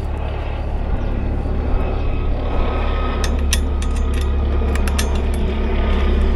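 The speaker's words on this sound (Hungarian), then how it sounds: "ilyenkor nyár elején folyton itt fölöttünk gyakorlatoznak a rendőrségi helikopterekkel" Police helicopters flying overhead during early-summer training flights, a steady low rotor drone and engine rumble filling the background with a constant, moderately loud presence, no talk.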